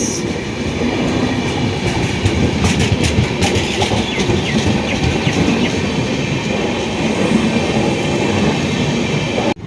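The Hatia Asansol Express passenger train rolls along the rails with a loud, continuous rumble and rhythmic clickety-clack of wheels over joints, with faint squealing heard from on board and no talk.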